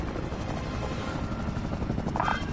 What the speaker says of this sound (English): I can't hear you over this helicopter.